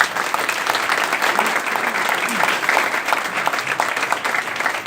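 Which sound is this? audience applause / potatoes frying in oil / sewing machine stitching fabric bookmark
audience applause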